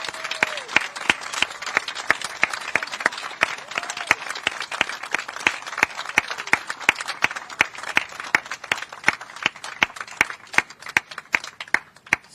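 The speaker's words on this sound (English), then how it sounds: "Everybody give a round of applause for the Bruces" Sustained audience applause at the Bruce's Beach dedication ceremony and celebration: a dense, steady wash of many hands clapping for about twelve seconds, with sharp individual claps standing out throughout.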